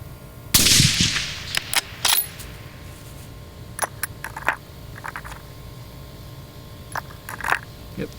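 Rifle fire from a Savage .243 Winchester at a 400-yard range, one loud sharp report at the start followed by a decaying roar, then scattered quieter clicks and clacks of handling over an outdoor background.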